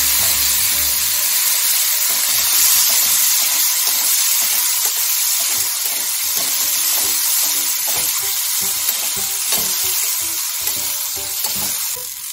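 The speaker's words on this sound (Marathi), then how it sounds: "हिरवी मिरची आणि लाल तिखट आहे। त्यामध्ये आपल्याला शेंगदाणे टाकून घ्यायचे।" Peanuts sizzle and fry in hot oil with green chilies and red chili powder, a steady close crackling hiss with occasional stirring, loud and continuous throughout.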